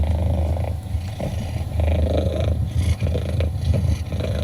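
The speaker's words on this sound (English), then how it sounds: "This is my absolute favorite sound on this planet, a purring cat." A cat purrs played back through a Soundcore portable speaker, a loud continuous low rumbling purr with steady rhythmic pulses, close and alone without talk.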